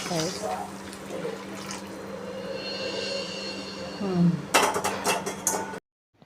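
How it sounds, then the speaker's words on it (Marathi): Water from a cooking pot is poured into a fish curry base in a home kitchen, a splashing pour mixed with metal vessels clinking and scraping, ending with a louder clatter. "आता हे टोपातलं जेवढं पाणी आहे ना तेवढं सगळं पाणी याच्यामध्ये टाकणार आहे"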